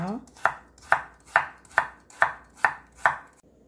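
A knife strikes a cutting board seven times at an even pace as a small carrot is cut into half-moon slices, each chop crisp, close and isolated with short silences between.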